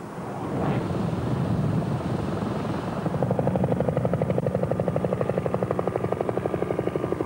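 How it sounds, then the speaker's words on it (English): A US Navy reconnaissance helicopter flies past, first a broad whooshing roar, then a strong rapid rotor chop pulsing evenly and loudly to the end. "US Navy fighters and reconnaissance helicopters were quick to show their interest."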